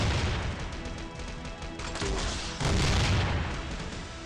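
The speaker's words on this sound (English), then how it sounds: "If you click on it, you'll send out missiles that can clear the stage a little bit faster" Missiles launched from the ammo button in the idle game Shelter Zero: Idle Angel Saga, a steady barrage of booms and blasts rolling on continuously, dense and moderately loud with no talking.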